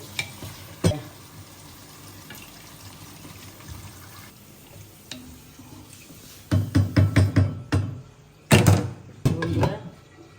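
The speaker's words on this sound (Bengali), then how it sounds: "এই যে কষানো হয়ে গিয়েছে, এখন ঝোল দেব" Liquid goes into a pan of sizzling, browned curry of liver, spleen and meat. A low sizzle runs throughout, then splashy pours and stirring surges come in several close bursts toward the end.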